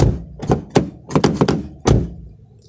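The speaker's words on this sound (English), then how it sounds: "like the sound from the door, like it's empty, right?" Several hollow thunks of a Subaru Legacy car door closing and being knocked, sharp and close, in quick irregular succession with short gaps.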